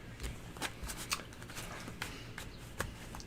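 Tarot cards being shuffled up close, a series of crisp riffling snaps and soft slides repeating irregularly, with no voice over them.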